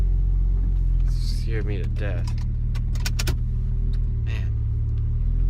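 A car's engine idles steadily just after finally starting, a low continuous rumble close by, while keys jangle and someone talks briefly over it.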